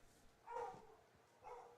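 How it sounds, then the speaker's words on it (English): A real live dog barks at an evening baseball game in Mohawk Valley, giving two short faint barks about a second apart against quiet ballpark ambience. "that is a real live dog barking here"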